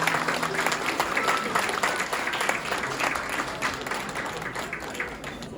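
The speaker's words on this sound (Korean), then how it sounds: "신랑 신부 내빈 여러분께 인사 축복의 박수 부탁드립니다" Wedding guests applauding the bride and groom in a Korean wedding hall, steady dense clapping from a crowd that runs throughout at moderate level, with a faint voice underneath.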